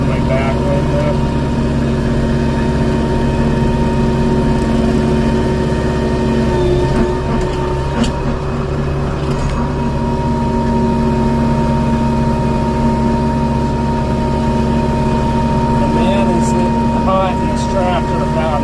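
A tractor engine runs steadily while brush hogging on a property, a loud, constant low droning hum with a sustained mechanical tone and no break across the whole stretch.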